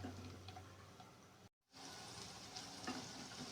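Chopped onion frying in about 150 grams of hot oil, a steady soft sizzle with faint crackles, broken by a brief gap midway, no voices.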